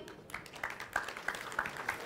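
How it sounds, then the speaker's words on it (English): A conference audience at a security event applauds as a speaker takes the stage, a faint and fairly distant patter of scattered clapping that is steady but thin, with a little background noise. "So let's applaud him."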